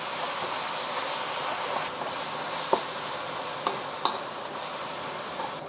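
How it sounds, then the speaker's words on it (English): Beef for Mongolian beef searing in a pan, with a steady, moderately quiet sizzle throughout and a few brief scrapes and clinks as the meat is stirred around. "start moving the beef around to make sure that it's all cooked through"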